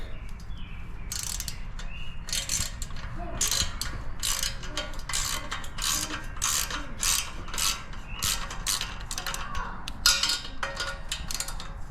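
A hand ratchet clicks in quick bursts while loosening 12 mm exhaust header bolts on a 2024 Yamaha Raptor 700R SE ATV, close and crisp, with faint birdsong in the background.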